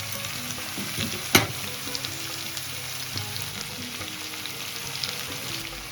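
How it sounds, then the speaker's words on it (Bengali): Vegetable stalks and green chilies fry in a pan with a soft, steady close sizzle, broken by a sharp utensil clack and a few light stirring scrapes, no talking. "ডাঁটাটা দিয়ে দিচ্ছি, কাঁচা লঙ্কাটা দিয়ে দিচ্ছি। একটু নাড়াচাড়া করে দেব।"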